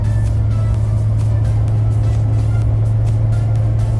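Chevrolet Duramax pickup truck running unloaded without its trailer, a loud, steady, low engine drone with road noise, heard continuously from inside the cab.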